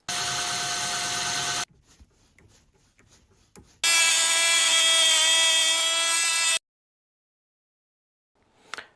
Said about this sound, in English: then drilled, tapped and machined that chain adjuster on the drive side